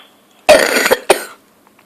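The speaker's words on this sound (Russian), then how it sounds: "Ты что кашляешь?" Two close, loud coughs from a person indoors, a long harsh one followed quickly by a shorter second, then quiet.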